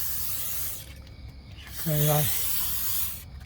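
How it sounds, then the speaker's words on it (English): Lubricant sprayed from a can onto the slide-out tracks of a 2004 Country Coach RV, two short hissing bursts with a brief pause between, close and clear, while someone speaks briefly. "So I like to spray all that."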